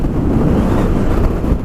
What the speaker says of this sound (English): Pretty windy up here, as I'm sure you can hear.